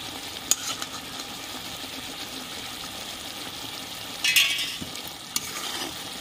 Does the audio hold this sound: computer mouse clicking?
no